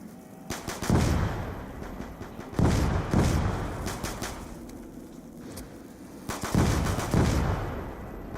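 Rapid bursts of gunfire from dual-wielded weapons in a first-person shooter, coming in several loud clusters of quick sharp shots separated by brief lulls, with no talking.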